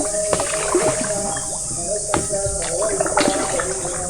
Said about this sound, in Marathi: आपली ही होडी चालली आहे.